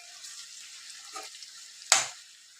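Onions already browned, with chopped tomatoes just added, frying in a pan for a mutton masala curry: a steady soft sizzle, then a sharp louder hiss and clatter near the end as something is stirred or dropped in.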